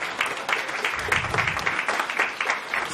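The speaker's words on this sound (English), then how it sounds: "Mr. Olabode Matthews, please, a round of applause" Diners at a royal cocoa festival dinner in London give a round of applause, a moderate wash of clapping that stays fairly even throughout.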